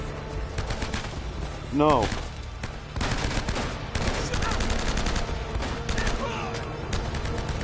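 Gunfire in Uncharted: The Nathan Drake Collection during a final boss fight, loud dense bursts of rapid shots running nearly the whole time, with a brief spoken word and a short vocal cry mixed in.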